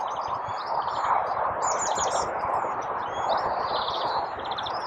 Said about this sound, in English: You might hear there's a green finch in the background and a great tit in the background.